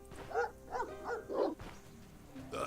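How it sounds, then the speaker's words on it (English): A dog in the video game Stoneshard barks in a run of four quick, moderately close yaps, each with a throaty tonal edge, followed by a quieter tail. "Dog. Early game dog?"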